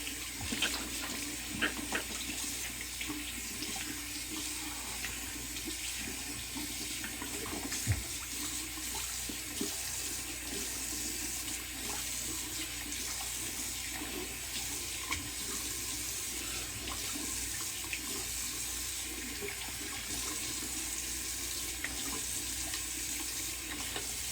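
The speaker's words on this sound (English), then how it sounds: "And cold water rinse." A faucet runs steadily for a cold-water rinse of a razor, with a continuous, fairly quiet hiss and splash of water into a sink that lasts about twenty-four seconds without talk.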